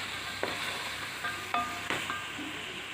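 Mutton frying with biryani pulao masala, stirred in a pan: a soft continuous sizzle broken by a few light clinks and scrapes of a spoon, moderately quiet and close.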